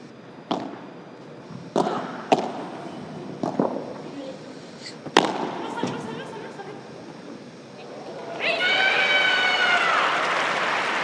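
Crowd at an indoor padel match in Gijon reacting after a rally, with scattered thuds and shouts building into sustained cheering and applause near the end, loud and close, with some talk mixed in.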